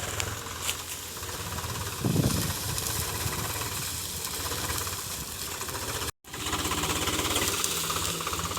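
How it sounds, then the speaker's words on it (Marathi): A tractor engine runs while reversing, a loud steady rumbling chug with a brief cutout near the end before it resumes. "तो रिवर्स आणतो इकडं पाड्याच्या इथं आणतो ट्रॅक्टर घेऊन"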